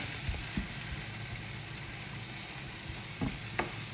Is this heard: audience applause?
no